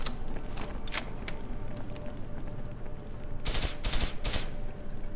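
Gunfire from a silenced weapon in Deus Ex: Human Revolution: scattered soft cracks, then a tight cluster of three or four louder bursts near the end over a low game background.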